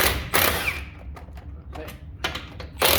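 A socket wrench with a 22 millimeter socket ratchets while a wheel is removed from a 2017 Ford F-150 during a front brake job, giving a few short clicking bursts separated by quiet gaps, close and fairly loud.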